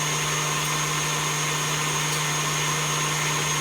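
An electric mixer whirs in a steady, loud, unbroken drone as it beats egg whites with salt and sugar for a coconut cream pie.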